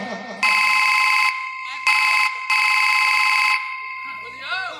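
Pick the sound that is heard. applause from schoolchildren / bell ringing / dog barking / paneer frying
bell ringing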